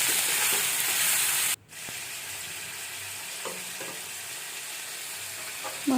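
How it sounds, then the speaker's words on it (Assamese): Meat sizzles and fries in a hot pan with a steady broadband hiss, a brief dropout, then soft scraping and stirring knocks toward the end, no talking. "মাংসখিনি দি অকণমান দেৰি লৰাই দিছোঁ।"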